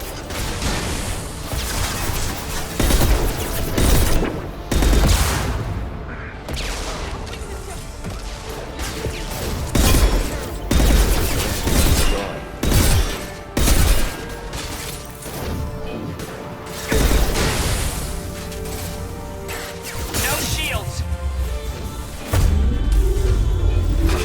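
Heavy, repeated gunshots and crashing impacts from Mass Effect 2 combat, loud and close, firing in irregular bursts of booming shots with clattering debris between them.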